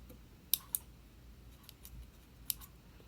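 A few quiet, sharp snips of dull embroidery scissors cutting thread, spaced irregularly, close up against a faint, low background hum.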